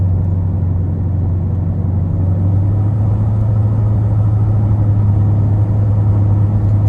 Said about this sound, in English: the car can speak for itself, just how loud it is